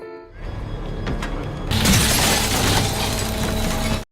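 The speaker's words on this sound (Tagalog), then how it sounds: "kinuha ng mga basurero ang salamin at isinakay ito sa truck at tinurog ito" An antique mirror being crushed in a garbage truck: low mechanical rumbling builds, then a sudden loud burst of shattering, grinding glass that continues densely until it cuts off.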